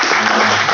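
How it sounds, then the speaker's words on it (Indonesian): A brief burst of audience applause at a political party dialogue event in Depok, a dense loud wash of clapping lasting under a second. "Tepuk tangan beliau."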